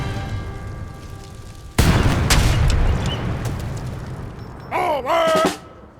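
A sudden loud cannon boom in Age of Empires 3 breaks through a low background hum, rumbling as it fades, followed later by a brief warbling tonal effect.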